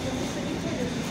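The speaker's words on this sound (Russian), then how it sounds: "Трамвай." A high-speed light rail tram arrives at a snowy stop, its steady low rumble and rolling hum filling the whole moment, close and continuous.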